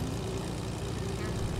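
A video game airplane in Fortnite drones steadily with a continuous low engine hum, close and even throughout, with no pauses or changes in pitch.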